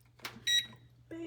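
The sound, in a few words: oven control panel beeping as it is set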